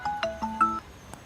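A phone ringtone for an incoming call plays as a short melodic sequence of four or five clear electronic tones over about a second, close and moderately loud.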